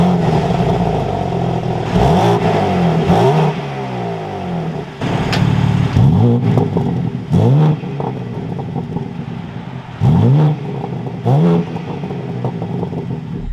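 A 2022 BMW M4 Competition xDrive engine roars to life, then revs repeatedly in loud, rising and falling bursts over a steady idle, close and dominant throughout.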